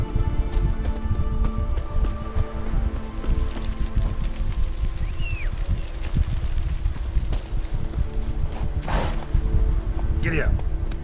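Horse hooves clip-clopping at a run in The Witcher video game, a steady galloping rhythm mixed under game music and ambience, with brief voice sounds over it.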